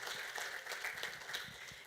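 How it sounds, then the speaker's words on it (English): Faint applause from an audience at a fundraiser event, a soft, steady patter of clapping that lasts under two seconds. "Let's give a big round of applause"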